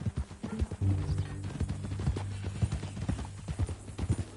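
Hooves clip-clop steadily and close by as someone rides a horse on a ranch, with a low rumble and a faint whinny in the mix.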